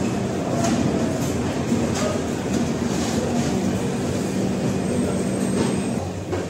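The Kanchan Kanya Express night train pulling out of Sealdah station, a steady loud rumble of wheels and carriages with faint rhythmic clatter and a thin squeal running underneath.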